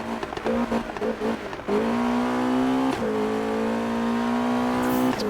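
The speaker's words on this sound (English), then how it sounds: "See, like the turbo noise is so good on this car." Car engine in the Need for Speed video game, a loud droning engine note that drops and climbs twice as gears shift, with a whining turbo tone riding over the steady revving.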